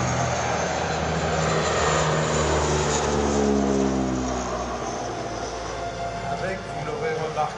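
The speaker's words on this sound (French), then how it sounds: "regardez l'approche avec une remise de gaz superbe" A Transall military transport aircraft roars loudly through a go-around and climb at the La Ferté-Alais air show, its turboprop engines giving a steady, sweeping drone that shifts in pitch as it passes, with a commentator speaking over it.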